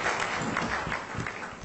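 Audience applause at a corporate excellence awards ceremony in Goa, a steady dense wash of clapping filling the short moment, fairly even in level from start to finish.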